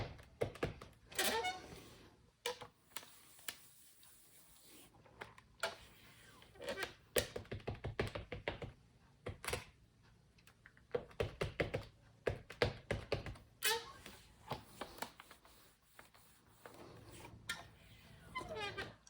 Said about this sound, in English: I'm stamping out a sentiment from the scripted sentiments, and I'll be die cutting that also.